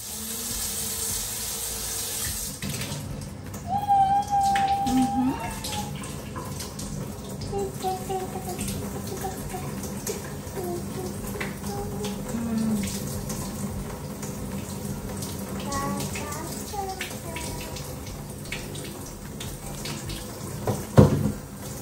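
Tap water runs steadily while a toddler's curly hair is soaked with cool to slightly warm water during a bath-time hair wash, a continuous gentle splashing stream with occasional louder spatters.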